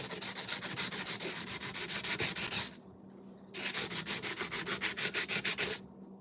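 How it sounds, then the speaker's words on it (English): Sanding sponge rubbed in quick back-and-forth strokes over a painted piece with a chipped spot, a steady rasping rhythm in two close, loud bursts separated by a short pause. "So just sand it."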